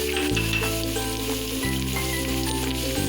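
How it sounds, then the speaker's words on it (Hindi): Four finely chopped onions fry in a hot pan, giving a steady, dense sizzle and crackle up close with no voices. "अब हम प्याज को थोड़ा भून लेंगे।"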